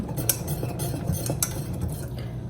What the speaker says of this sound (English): you'll just whisk it every so often during this stage because you don't want it sticking to the bottom